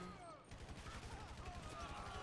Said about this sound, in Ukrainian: Так, стріляємо, стріляємо, стріляємо, стріляємо!